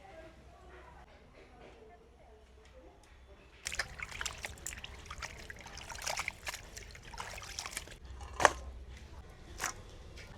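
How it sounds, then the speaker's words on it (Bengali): Water splashes and trickles over pieces of goat meat being rinsed by hand, a quiet run of uneven dribbles and sharper splashes close by that picks up partway through, with faint background sound beforehand. "তো মাংসটাকে আগে প্রথমে ধুয়ে নিই।"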